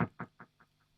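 Through an MXR Carbon Copy analogue delay with the mix turned fully up, a single guitar note repeats as five evenly spaced echoes, each quieter and darker than the last, fading within a second.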